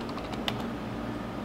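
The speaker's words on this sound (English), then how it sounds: "type in gp update /force" Quick light keystrokes on a computer keyboard, a short burst of clicky taps at close range with no talk.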